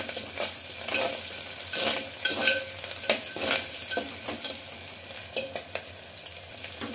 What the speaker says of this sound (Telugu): ఆనియన్స్ బాగా గోల్డెన్ కలర్ వచ్చేసి ఫ్రై చేసుకోవాలండి